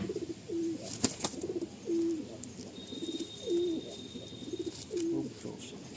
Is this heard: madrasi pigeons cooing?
yes